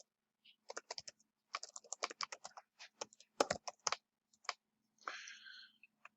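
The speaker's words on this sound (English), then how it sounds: "Let me type that again." Keys tap on a computer keyboard in quick, close bursts of clicks, pausing briefly between runs, ending with a short rustling sweep.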